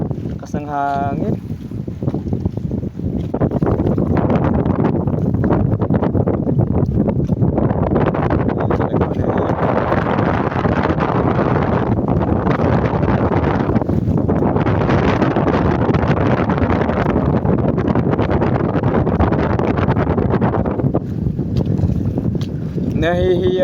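Strong wind buffets the microphone at a fishing spot, a loud continuous roar that barely lets up for over twenty seconds, with a short quieter stretch at the start.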